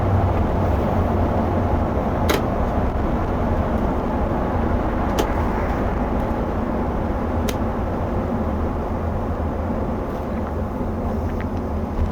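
Steady, loud road and engine rumble fills the cabin of a tour vehicle carrying a cruise excursion group, with a few faint clicks and no talking.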